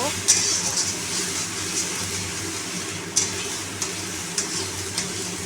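Ghetkol leaf paste with sugar being stirred in a pan over a steady low sizzle, with occasional sharp spoon taps against the pan, while a voice talks over it.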